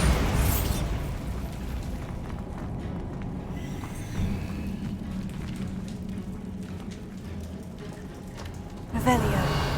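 The Bombarda spell from Hogwarts Legacy erupts in a sharp blast, followed by a long rumbling, crackling roar of debris and fire that stays dense and loud for several seconds before a second burst near the end.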